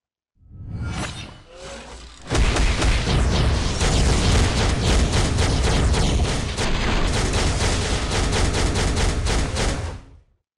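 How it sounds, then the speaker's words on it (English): Hulkbuster's ultimate attack in the mobile game Marvel Future Fight: a short rumbling wind-up, then a long, loud, dense barrage of crashing, shattering impacts and explosions that rattles on for about eight seconds before stopping abruptly. "So that's the ultimate attack."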